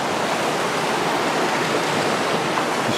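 Creek water rushes steadily where Little Fish Fork joins Fish Fork, a loud, close, unbroken wash of flowing stream noise with no voices.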